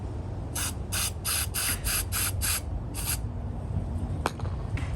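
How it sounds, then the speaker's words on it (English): An aerosol can sprays into a cap in a workshop in short bursts: about seven quick hissing puffs in a row, then one more after a pause and a faint clink, all close and clear with no talking. "I'm just going to spray it into the cap."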